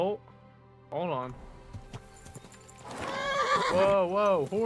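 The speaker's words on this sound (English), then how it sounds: "Whoa, horse." A video game horse whinnies in loud, wavering neighs, first briefly and then in a longer, stronger call near the end, with hoof clip-clops and a player's excited voice mixed in.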